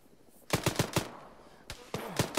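Milsim battle gunfire: bursts of rapid close shots, a quick cluster of about five cracks, then a pause and another burst, sharp and loud against a quieter background.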